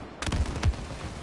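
Gunfire from the video game It Takes Two: two or three quick, punchy shots in close succession, loud and near, with no talk over them.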